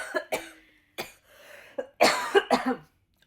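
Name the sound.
coughing after water went down the wrong pipe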